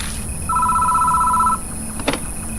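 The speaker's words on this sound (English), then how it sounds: "We can hear a phone ring inside the station before it stops." Telephone ringing inside a station in the Spirit Hunter NG video game: one sustained electronic ring of about a second, mid-loud over a steady background hum, then a brief click as it stops.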